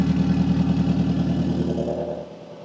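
A turbocharged 8th-gen Honda Civic with a valved exhaust idles loudly with a deep, rumbling exhaust burble, the pulsing drone steady before easing slightly toward the end.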